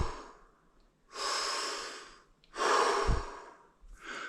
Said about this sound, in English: you can substitute it with long,